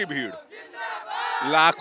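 A large, dense crowd roars and chants at a political rally during Modi's visit to Varanasi, with women prominent among them; loud massed voices rise and swell closely over a short burst.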